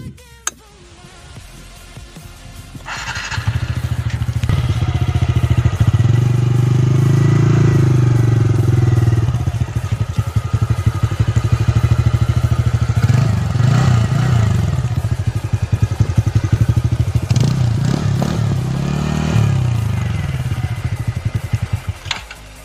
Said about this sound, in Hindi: अब हम इसका इंजन स्टार्ट करके देखते हैं कि इसका साउंड तो क्वालिटी कैसा है